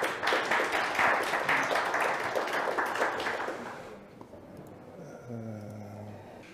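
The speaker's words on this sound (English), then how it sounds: "let's give a round of applause to the next speaker" A conference audience applauds a speaker before a talk, a dense burst of many hands clapping that fades over about four seconds, then low murmuring and faint voices follow.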